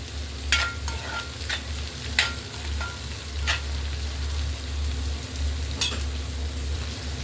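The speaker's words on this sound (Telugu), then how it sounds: "కొంచెం గ్రీన్ పీస్ కొంచెం మగ్గాలి" Green peas sizzle steadily in a pan on the stove, with a low hum underneath and occasional sharp scraping clicks as they are stirred.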